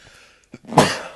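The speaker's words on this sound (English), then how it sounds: "I just sneezed" A single sharp sneeze bursts out after a quick intake of breath, loud and close, with a brief noisy tail.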